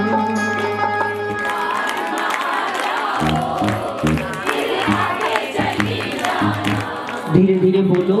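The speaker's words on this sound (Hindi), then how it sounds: "एक भाई दोनों हाथ उठाओ बिल्कुल सीधे और ताली बजा के कहो, एक बार मां आ जाओ फिर आके चली जाना।" A crowd at a Mata ka Jagrata devotional night claps in rhythmic bursts and calls out together to the goddess over a hall sound with music, loud and reverberant, with voices mixed in.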